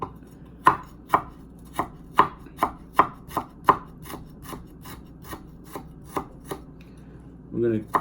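Knife chopping fresh ginger finely on a board, a steady run of crisp close taps, loud at first and then lighter, with a short rub at the end and no talk.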